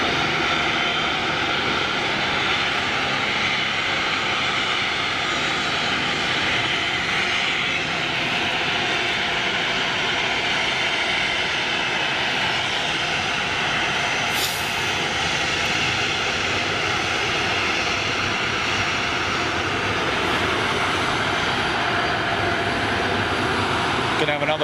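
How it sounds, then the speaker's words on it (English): An Ilyushin IL-76 Russian freighter jet from the Volga-Dnieper group roars past in a steady, loud, broadband engine rumble that holds for nearly half a minute outdoors. "enjoy this IL-76 Russian freighter from the Volga Dnieper group"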